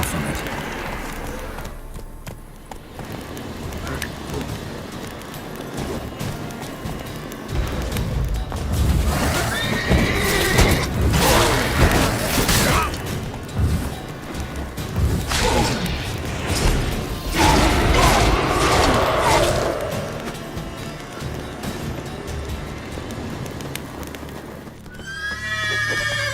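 Roach the horse galloping in The Witcher 3 video game, hooves clip-clopping in rapid bursts with loud neighs and whinnies rising over the game's mechanical effects and rushing background.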